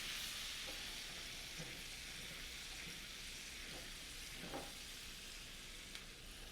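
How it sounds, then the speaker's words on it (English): Garlic sautés in a pan with red pepper flakes and paprika, giving a steady, soft sizzle with faint scraping stirs throughout, close by and without talk. "saute the garlic for about a minute"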